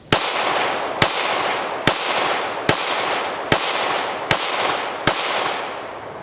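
Seven evenly spaced gunshots ring out from a Palmetto State Armory Rock 57 5.7 pistol, each a sharp loud crack followed by a short decaying echo, at a steady unhurried pace with no talk.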